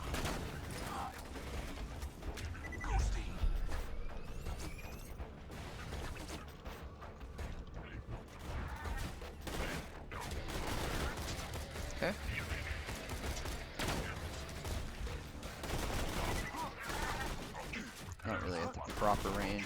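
Assault rifle gunfire in Borderlands 2, played as Zer0, with sustained rapid bursts that run almost nonstop under clanking mechanical reload noise and game effects, fairly loud throughout.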